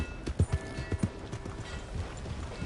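A horse's hooves clip-clop at a steady trotting rhythm in the video game Red Dead Redemption 2, close and clear over a low background hum.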